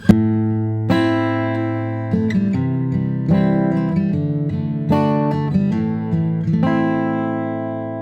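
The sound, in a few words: guitar riff through ribbon microphone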